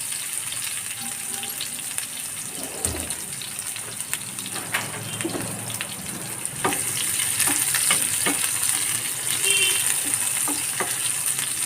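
Onions sizzle and fry in hot oil with fennel seeds and cinnamon, a steady hiss with occasional stirring scrapes, the frying growing louder partway through.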